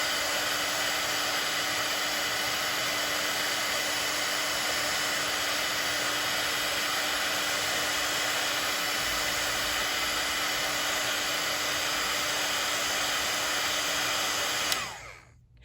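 Heat embossing tool blowing steadily on embossing powder on a handmade stamped card, a loud continuous hot-air roar that runs without a break for about fifteen seconds, then cuts off sharply at the end.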